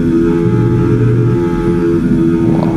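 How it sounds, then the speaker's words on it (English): The Williams FW47 Formula 1 car's engine drones at a steady, loud pitch in the F1 25 video game, a continuous mechanical whine with no distinct downshift standing out. "I just want to listen the engine and how it feels, the car."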